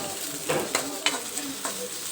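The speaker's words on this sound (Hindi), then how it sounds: "ये 2 प्यालियों के करीब प्याज होगा जिसको अब मैंने अच्छे तरीके से ब्राउन कर लेना है, थोड़ा सा डार्क ब्राउन।" Onions fry toward dark brown in a kadai for chicken karahi, sizzling steadily while a utensil stirs and scrapes them in a few distinct strokes close by.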